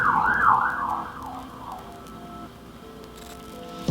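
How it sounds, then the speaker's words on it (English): A police siren wails, sweeping up and down at the start, then fades away as it passes into the distance, leaving a low background hum. "The police driving by. I'm surprised with my little sirens."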